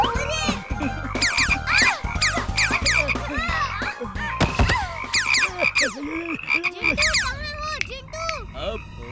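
Cartoon frogs croak in loud, bouncy, overlapping calls in an animated Hindi children's series, with rapid rising and falling tones that fill the whole stretch over a musical backing.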